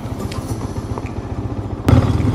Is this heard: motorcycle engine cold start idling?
yes